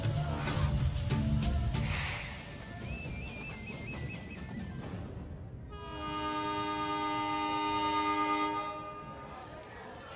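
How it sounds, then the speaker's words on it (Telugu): A train pulls away from a station, its horn sounding in sustained tones over rumbling rail noise, with people talking amid the commotion. "అయ్యో ట్రైన్ కదిలిపోతుంది."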